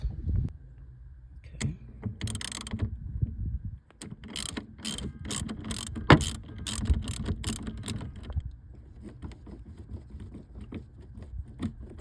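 Ratchet loosening a 10 mm nut on the negative battery terminal of a BMW E46 sedan, close, fairly quiet rapid clicking strokes in short bursts with pauses between.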